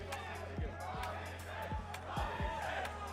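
Crowd roaring and shouting at a live esports grand final in a large arena, a sustained wall of cheering with sharp swells and bursts throughout.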